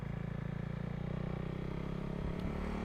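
A motorcycle engine drones steadily while being ridden uphill toward Kurseong on a cool, rainy day, with a continuous low rumble that holds level and then roughens briefly near the end.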